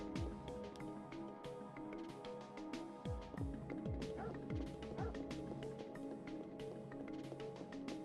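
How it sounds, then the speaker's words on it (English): Video-game dogs bark in Parasite Eve, a horror game: a run of sharp yaps and whimpers over a steady, droning musical score, with several barks clustered in the middle of the stretch. "when you see dogs in a horror game, bad things are going to happen"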